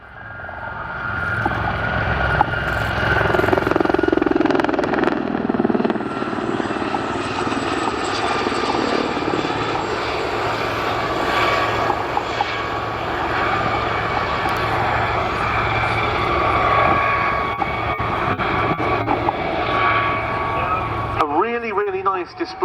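Gazelle helicopters of the 2024 Gazelle Squadron displaying at an RAF air show, a loud, continuous rotor and engine drone that swells as they approach, with commentary over a PA mixed in.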